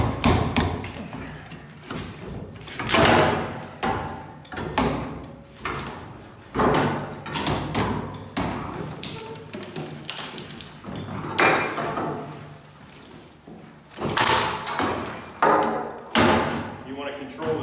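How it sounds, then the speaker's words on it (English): A firefighter strikes a door with a Halligan bar during forcible entry training, landing a series of heavy, spaced metallic-wooden thuds and bangs close by, with an instructor talking between and over the blows. "So shocking the door, find your pressure in the center."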